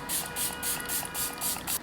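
A series of short, bright hissing bursts of makeup setting spray, about seven quick sprays in a steady rhythm, close and fairly loud.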